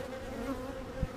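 Honeybees buzzing during a spring hive inspection, a steady low drone that stays fairly quiet and continuous, with a brief thump near the end.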